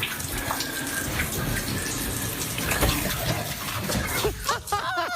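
Shower water runs in a steady loud hiss and splash while a Golden Retriever and another dog drink from the stream. Brief lapping-like irregularities are audible near the end.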